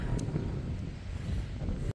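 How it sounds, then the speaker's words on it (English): Wind blows across an open farm field, a soft low buffeting rush against the microphone with small gusty swells over a couple of seconds. "As you can see, it's windy."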